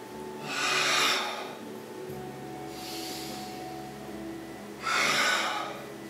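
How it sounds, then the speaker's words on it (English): Slow, deep breathing during a gentle qigong exercise: three long airy breaths, close and clear, each swelling then fading, with a soft hum in the background and no talking. "Every inhale bringing freshness in. Every exhale getting old chi out."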